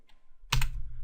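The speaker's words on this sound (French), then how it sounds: "j'appuie sur la flèche du haut de mon clavier" One up arrow key on a computer keyboard is pressed, a single close, sharp click out of near silence.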